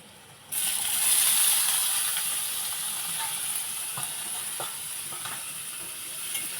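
Elephant foot yam stalks hit a pan of frying onions with an abrupt, loud sizzle that settles into a steady hiss, with a few faint stirring clatters over it.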